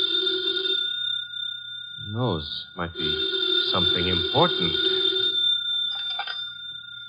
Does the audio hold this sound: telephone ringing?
yes